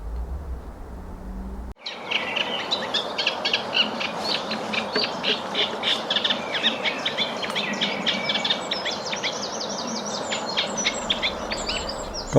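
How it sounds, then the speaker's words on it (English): A reed warbler sings a steady, rhythmic run of chattering chirps near an English church, with a wren singing in the background, both continuous and fairly clear against a faint outdoor hiss. "this was the rhythmic song of a reed warbler."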